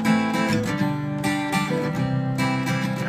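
Acoustic guitar plays the bridge riff of a song with full, ringing chords and picked notes, continuous and fairly loud, with no voices.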